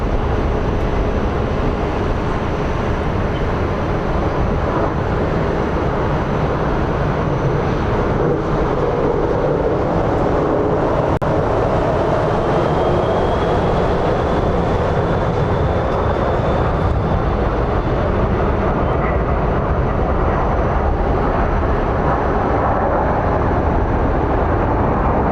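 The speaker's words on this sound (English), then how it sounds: "We do have Southwest coming in on the closer runway." A Southwest plane comes in to land at Phoenix Sky Harbor airport on the closer runway, heard as a loud, steady jet roar that fills the air for the whole stretch, with a faint rising whine partway through.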